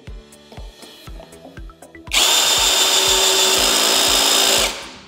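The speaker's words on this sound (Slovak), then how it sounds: "Začínam malou skrutkou na prvej rýchlosti a prvé nastavenie mechanickej spojky." A Parkside PSBSAP 12 A drill driver, set to first speed and the first clutch setting, makes a few short taps and clicks, then whirs steadily for about two and a half seconds as it drives a small screw, stopping abruptly.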